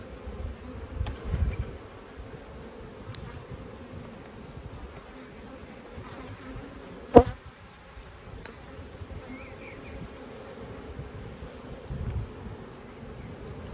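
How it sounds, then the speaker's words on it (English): Honey bees swarm around an opened hive during colony inspection and splitting, giving a continuous near buzzing drone with a few sharp knocks and clicks of frames being handled. "these bees are getting a little excited here"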